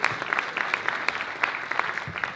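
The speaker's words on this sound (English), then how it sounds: "full round of applause for these guys" Audience applause at a whale workshop, a steady patter of many hands clapping at moderate distance, fairly soft and continuous without voices.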